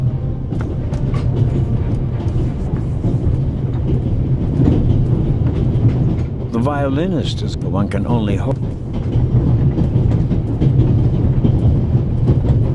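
In the game The Raven, a passenger train rolls along its rails with a steady low rumble and rhythmic clatter running throughout, while someone speaks briefly partway through.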